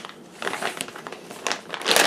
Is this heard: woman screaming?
no